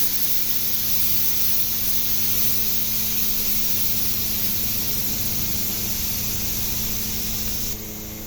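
A pressure cooker vents steam to cool down, a loud, steady, close hiss that holds unbroken and eases slightly just before the end.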